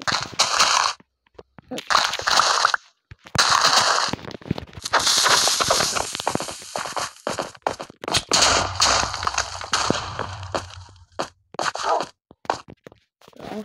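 Blocky Minecraft explosions burst out in sharp, loud cracks, several separate blasts broken by short gaps, followed by crumbling debris and a low rumble.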